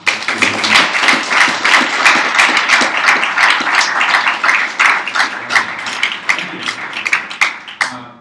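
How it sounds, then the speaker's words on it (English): An audience at a Startup Grind event in San Francisco gives a loud, sustained round of applause. The clapping is dense and close, with sharp individual claps standing out and a brief swell near the end. "Let's give out a big round of applause."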